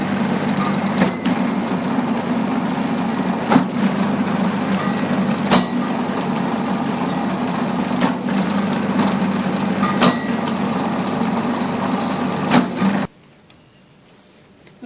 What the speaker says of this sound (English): We can see that the motor rotations in each direction are more